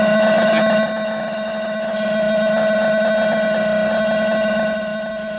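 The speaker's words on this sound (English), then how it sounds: "pseudo-random noise, and you're going to hear it vary from like" Pseudo-random noise from a sequencer clocked up into audio range, a buzzing, steady tone with harsh, gritty texture that shifts in level partway through, continuous and loud with no voices.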